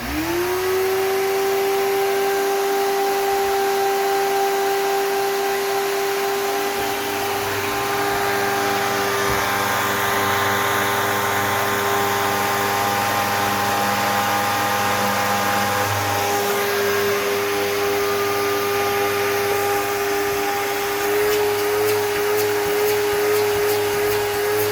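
A Eureka Victory vacuum cleaner, an older repaired unit that runs loud, whines steadily and close up with a high motor tone, its pitch shifting slightly partway through, with no talking.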